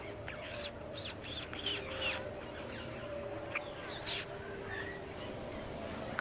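Many birds chirp and tweet in a walk-through aviary at Disney's Animal Kingdom, short bright calls scattered through steady background hum with occasional louder bursts.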